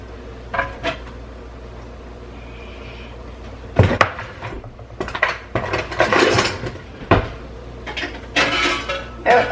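Glass canning jars of chili lifted out of a cooled canner, a series of scattered clinks, knocks and metallic clanks, close and moderately loud, separated by quiet pauses.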